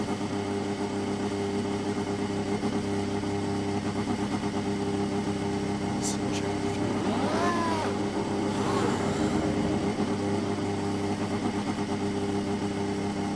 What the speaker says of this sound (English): I know you can't really hear me probably over the engine sounds